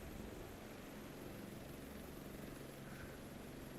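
A helicopter in Microsoft Flight Simulator 2024 produces a continuous, faint rotor and engine drone, a low steady whir with no break or change.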